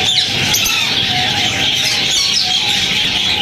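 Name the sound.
lovebirds at a bird market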